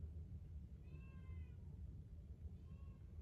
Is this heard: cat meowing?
yes